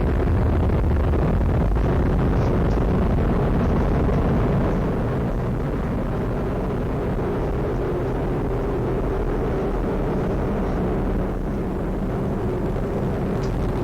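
Atlas V rocket launch driven by a single Russian RD-180 engine, an unbroken, loud, deep crackling roar that holds steady throughout without pause.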